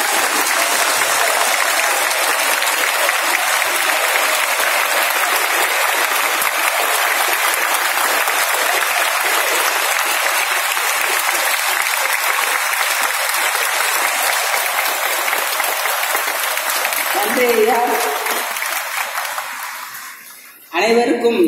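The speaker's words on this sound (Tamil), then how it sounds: "எல்லோரும் தயவுசெய்து ஒரு நிமிடம் எழுந்து நின்று கரகோஷம் தெரிவிக்குமாறு உங்களை நான் கேட்டுக்கொள்கின்றேன்" Standing ovation from a large crowd at a birthday commemoration speech event in Tamil Nadu, loud, sustained, dense clapping that goes on for about twenty seconds before dying down, with a voice emerging near the end.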